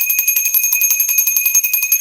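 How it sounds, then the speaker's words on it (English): A small bell rung rapidly and continuously, its bright metallic tone repeating in quick strokes like an alarm bell, close and loud, with no talk over it. "We're going to ring the bell."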